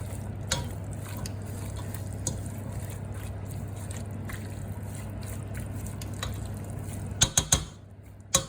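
Green beans being stirred in a pot for a Tunisian-style dish, soft scraping and wet shuffling under a steady stove hum, ending with a few sharp clinks of a utensil against the pot.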